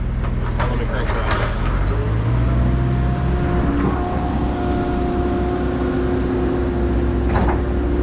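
A new Hyundai 140 excavator's diesel engine rumbles loud and steady nearby, with faint clanks and people talking over the running engine.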